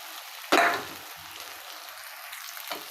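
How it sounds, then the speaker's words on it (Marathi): Washed poha hits a hot frying pan with turmeric, a sharp sudden sizzle that flares loudly and fades over about a second, followed by quiet crackling and a smaller second burst. "बारीक गॅस करून लगेच आपण जे चाळणीमध्ये पोहे धुवून घेतलेले ते टाकून घेऊया"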